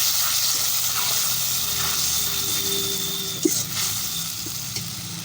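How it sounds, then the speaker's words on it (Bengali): Chopped tomatoes fry with fish and fish roe in oil, a constant close sizzle with occasional clicks and scrapes of stirring. "তিন কোটা টমেটো, সবগুলো একসাথে দিয়ে ভালো করে কষতে থাকবো।"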